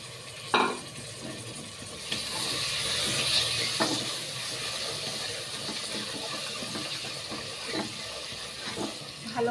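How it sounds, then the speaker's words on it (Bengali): Meat is stirred in a hot pan while frying for a pumpkin dish, with a soft steady sizzle and hiss under intermittent scraping clicks of the spoon, moderately close. "ভালো করে মাংসটা নাড়াচাড়া করে নেব"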